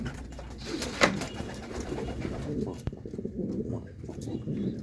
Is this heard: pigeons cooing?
yes